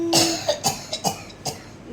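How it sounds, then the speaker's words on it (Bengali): A short burst of several dry coughs in quick succession, close by, each sharp and breathy. "মা কাশছে, এসে মরছি, গলাটা ধরে গেছে"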